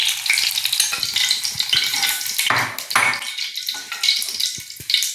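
Eggplant sautéing in a hot pan for a Tamil kara kuzhambu, a steady close sizzle and frying hiss with scraping stir strokes throughout.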